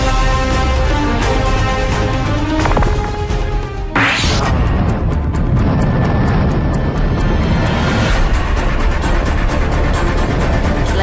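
A loud, roaring jet engine of a landing bomber tanker rumbles continuously, with a sharp whooshing sweep midway as the aircraft passes close by and keeps thundering on.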